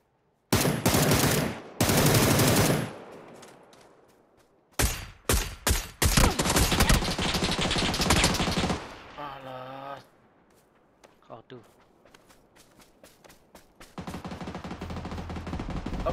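Automatic and rapid gunfire in PUBG: Battlegrounds, loud bursts of fusillade separated by gaps, with a player talking over parts of the action and other game sounds in between.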